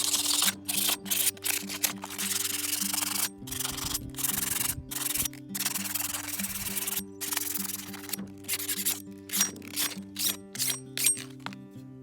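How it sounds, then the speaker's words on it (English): Sandpaper scrubbing rust from the deeper marks on an everyday hand tool, loud rhythmic rasping strokes in quick bursts with brief pauses, close and alone throughout. "Sandpaper"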